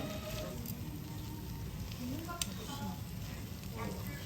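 Stew bubbling and sizzling in a hot Korean earthenware pot, a steady close crackling hiss running throughout, with faint voices in the background.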